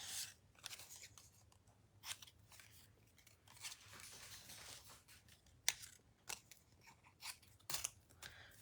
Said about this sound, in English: we might need to cut them just a bit shorter